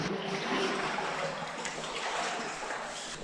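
Splashing and sloshing of water as someone wades knee-deep through a flooded underground bunker at an abandoned dacha, a steady, close, churning wash of water throughout with no talk.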